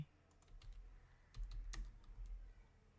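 Keystrokes tapped on a computer keyboard while entering a search in After Effects, a brisk cluster of clicks with a pause before another burst, close up and fairly quiet, with no talking.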